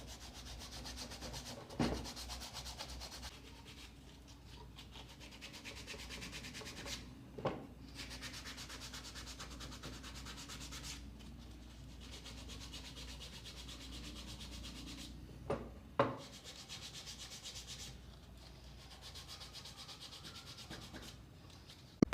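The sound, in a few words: sanding wood with sandpaper wrapped around a rasp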